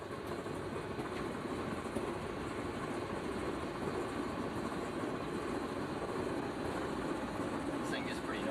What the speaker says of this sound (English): This is the sound of the treadmill.